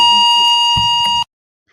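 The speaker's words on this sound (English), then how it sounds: "That's them turning the fire alarm." A fire alarm blares a loud, steady electronic tone for over a second, with brief muffled talk under it, then cuts off abruptly into silence.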